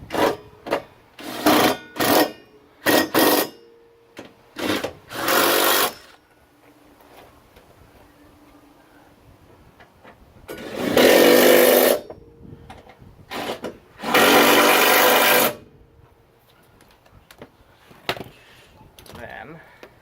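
A power tool drives trailer hitch bolts on a 2013 Hyundai Tucson, giving short rattling bursts and then two longer sustained runs, loud and close, with quiet gaps between them.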